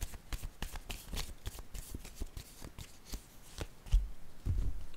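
A deck of tarot cards being handled and shuffled at close range, with soft riffling flicks and light taps, then a few duller knocks near the end; quiet overall, no speech.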